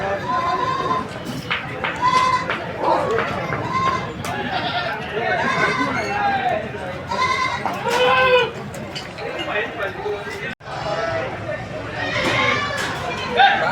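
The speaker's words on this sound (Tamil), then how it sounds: "இங்கே ஒரு தரமான வெள்ளாட்டு கடா ஒன்று இருக்குது." Bleating from a male goat at a crowded Chennai goat and sheep market, heard off and on as short calls among other livestock under steady nearby talk and market bustle.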